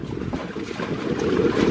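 Wind buffets a tiny houseboat heading into the wind across Lake Albert toward the Narrows on the River Murray, a steady loud low rush with water churning beneath, constant for the whole stretch with no talking.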